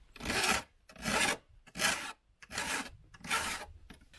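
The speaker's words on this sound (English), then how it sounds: "now we're just going to file the edges because there's little burrs" A hand file rasps across the freshly cut metal edges of a roof vent opening in a Sprinter camper van roof, five steady strokes in a regular rhythm, close and clear with short pauses between them.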